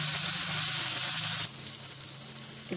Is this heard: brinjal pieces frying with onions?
yes